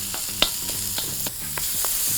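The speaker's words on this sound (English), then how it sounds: "we'll directly put in our ground pork. I really just wanna sear it quickly" Ground pork searing in a hot pan, a loud steady sizzle close by with intermittent scrapes and stirring knocks.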